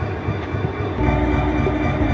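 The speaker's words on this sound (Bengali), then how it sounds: "এই দেখুন এখন ট্রেনটাই যে আসতেছে," A train rumbles steadily and loudly close by at night, a second train also nearby on parallel tracks, the low rolling noise growing stronger partway through.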